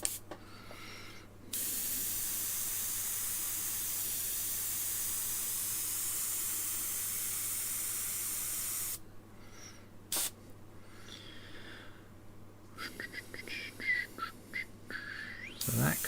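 Steady close hiss of an airbrush spraying paint, cutting out and restarting in short bursts toward the end.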